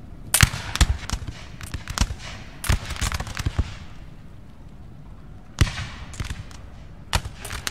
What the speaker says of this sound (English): I'm going to get point blank shot here by the grenadiers.